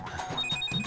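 A telephone rings in a home, a short burst of bright electronic bell tones pulsing in quick repeated chirps, loud and close with no voices over it.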